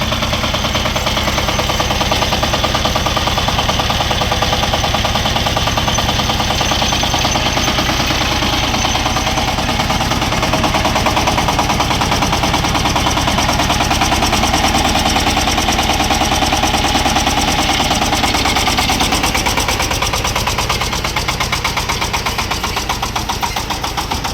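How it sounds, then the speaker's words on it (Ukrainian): A Shifeng 350L single-cylinder, rear-wheel-drive mini tractor running steadily, its loud, close engine giving a fast, even knocking chug that holds without a break and carries no voices. "Відвантажна тракторця Сифен 350L, тракторець одноциліндровий, задньопривідний"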